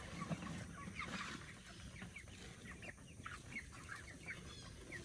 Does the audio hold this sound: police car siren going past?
no